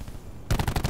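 Rapid automatic gunfire in a Call of Duty match bursts in halfway through, loud and close, a quick rattling run of shots after a quieter stretch of game ambience.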